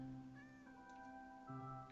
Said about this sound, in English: I like heard the cat meow